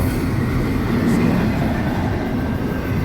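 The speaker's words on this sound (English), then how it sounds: "that was a long ass train" A long train rolls steadily past a crossing in downtown Fort Lauderdale, a loud, continuous rumble with a dense low roar and faint rail hiss throughout, no voices.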